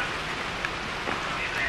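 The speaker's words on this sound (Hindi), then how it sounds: "और बारिश हो रही है" Steady rain falls in the mountains as a dense, even hiss of drops on surfaces, close and continuous, with faint voices underneath.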